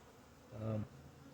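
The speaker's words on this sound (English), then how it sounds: "there's so many bees in that box right now" Honeybees swarming around a hive box give a brief, faint buzz that swells and fades within about half a second, with quiet background noise before and after.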